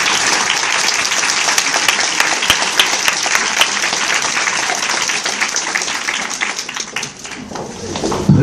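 A bookstore audience at an author event in Austin, Texas gives a round of applause, dense and lively clapping with individual sharp claps standing out, tapering near the end with a few voices mixed in.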